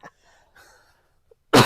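A single loud, harsh cough bursts out near the mic after faint background talk, closing out a short quiet stretch at a tabletop card game session.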